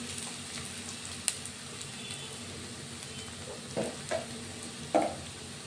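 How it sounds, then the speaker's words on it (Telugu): Turmeric, ginger and garlic frying in a pan as they are stirred, a steady low sizzle broken by a few soft scraping clicks of the spoon near the end, with no talk. "పసుపు, అల్లం వెల్లుల్లి 2 వేసేసుకొని ఉడికిద్దాం."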